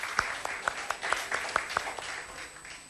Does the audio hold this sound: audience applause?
yes